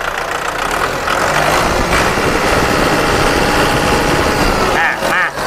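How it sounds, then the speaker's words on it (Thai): A Kubota M6040 tractor engine runs loud and close with a rough, throbbing mechanical roar that holds steady throughout, while someone talks over it. "เดี๋ยวผมเร่งเครื่องให้ดูนะครับ"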